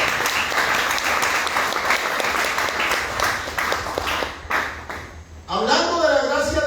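Church congregation applauding together, a dense, loud wash of clapping that fills the space for about five seconds, dips briefly, then gives way to a voice speaking.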